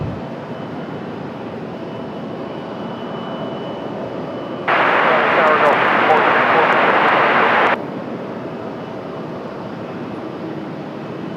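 A CRJ regional jet at Raleigh-Durham International Airport gives a steady broad engine roar that swells sharply for about three seconds mid-clip, then settles back to a constant background hum.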